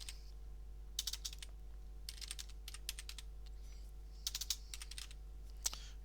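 Quiet bursts of computer keyboard typing, several short runs of light clicks spread across a few seconds over a steady low electrical hum, with no one speaking.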